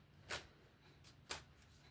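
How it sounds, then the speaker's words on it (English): Tarot cards being shuffled in a quiet room: two short, crisp riffling bursts about a second apart, soft and close, with faint flicks between them and no talking. "let's shuffle, and I'm going to pull clarifying cards"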